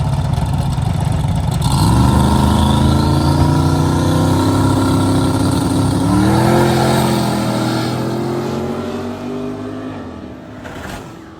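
At a drift and drag event, turbo and nitrous drag trucks, among them an S10, rev loud, deep, monstrous engines that climb in pitch and surge again, then fade slightly as they move off.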